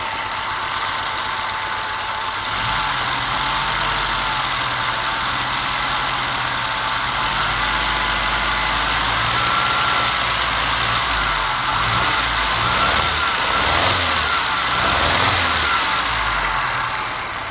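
A car engine idles steadily and fairly loud after a new distributor cap and rotor, with the lead disconnected and something not right, its running uneven with knocking pulses and brief revs near the end.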